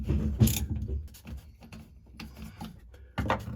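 A ratchet with a 15mm long socket loosens suspension bolts on a 2002 Mustang, giving short clicking, clattering bursts at close range with a louder grab near the start and another near the end.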